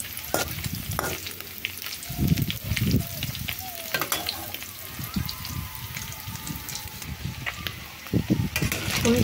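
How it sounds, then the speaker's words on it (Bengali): Homemade paneer, made from raw cow's milk and curd, sizzles in a frying pan, a soft continuous crackle broken by the scrape and bump of stirring. "আর পনিরটা ভাজা হয়ে গেছে প্রায়, আমি এটা বার করে নেব।"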